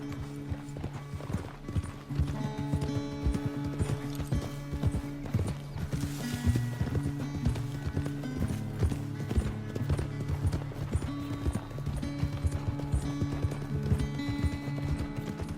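Horse hooves beat in quick galloping clip-clop rhythm in Red Dead Redemption 2, steady and close with a short whinny, amid game music and a wagon-like mechanical rattle.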